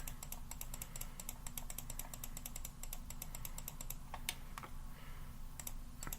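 Rapid, quiet clicking of a computer mouse while adding points in GIMP photo-editing software, a steady stream of light close-up clicks with no talking.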